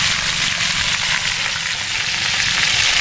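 Fish, tilapia and dalag, fries in hot oil, giving a dense, steady sizzle and crackle close up with no voices.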